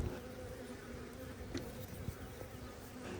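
Steady honey bee buzzing fills the air at a hive, a dense continuous drone with a few faint clicks and taps close by.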